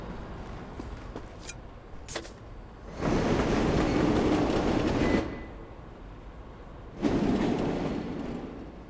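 Train rumbling along the tracks in Wolfenstein: The New Order's Berlin catacombs, heard in two loud sustained passes of broadband rumble separated by a quieter stretch, with a few sharp clanks early on.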